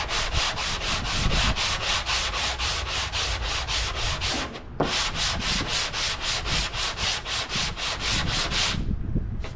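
Sanding car bodywork by hand, a steady rhythmic rasp of strokes back and forth, close and loud, with a brief pause midway and no talking.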